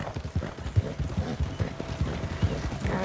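Horse hooves clip-clop at a steady trot in the Red Dead Online video game, an even rhythmic beat of muffled thuds at moderate level with faint background game sounds.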